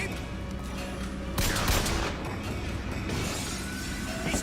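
Pistol gunfire in the video game BioShock Infinite: a sharp burst of shots and crashing impacts rises over a dense, continuous game soundscape, close and loud, then settles back into steady background noise.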